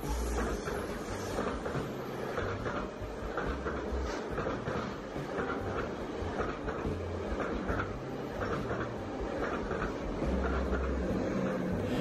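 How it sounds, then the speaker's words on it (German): Two ÖBB class 1144 electric locomotives in double traction, plus a third pushing at the rear, haul a train past Payerbach-Reichenau station in Austria. A steady, loud rolling rumble with wheel and rail noise carries throughout, no voices. "mit einer Doppeltraktion von Alpenstaubsaugern der Reihe"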